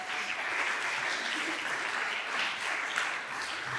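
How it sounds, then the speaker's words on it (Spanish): Sustained audience applause at a church Bible Month forum, greeting three invited panelists; steady, moderately distant clapping with no talking, holding even throughout. "También les vamos a pedir un aplauso para animar a nuestros panelistas."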